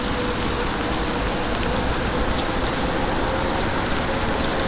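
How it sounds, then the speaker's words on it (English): Heavy rain pours steadily outside a supermarket car park, a dense, continuous hiss of drops drumming on surfaces close by, loud and unbroken throughout with no talking. "the rain will calm down a bit. It's starting to get heavier now."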